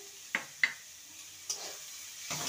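Onion and chopped green chili being stirred in a frying pan, faint sizzling with a few soft scraping taps of the spoon, close and quiet, with no talking.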